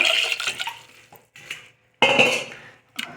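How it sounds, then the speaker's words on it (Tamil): Water poured into a pressure cooker holding colocasia roots in a home kitchen, coming in two splashing bursts with clinks of the pot between them, close and fairly loud, with no talking. "குக்கரில் போட்டு கொஞ்சம் இதுக்கு மூழ்கிற அளவுக்கு தண்ணி விட்டு"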